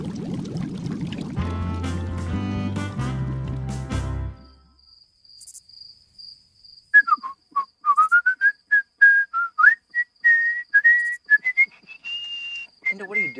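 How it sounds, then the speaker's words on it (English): After a stretch of music and silence, a person whistles a wandering tune in short pitched phrases, clear and close, with no other sounds. "Just whistling Dixie."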